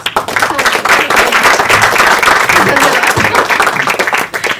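An audience at a Marathi film trailer launch claps continuously, a dense, loud wave of applause that holds steady throughout.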